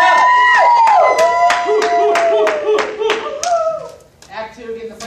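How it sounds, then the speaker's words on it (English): Audience applause after a scene in a school-style play about the immune system: a steady patter of many hands clapping, with cheering and bright voices mixed in, loud at first and then thinning out. "applause."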